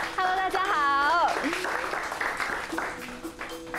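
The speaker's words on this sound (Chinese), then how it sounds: "让我们掌声欢迎 Luna and Ladies 的创办人 Luna 小姐" A small audience at a wine tasting on a TV entertainment show breaks into scattered clapping to welcome a wine sponsor's founder, with a voice talking over the start and the applause continuing moderately loud.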